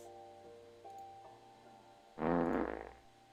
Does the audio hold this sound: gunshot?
no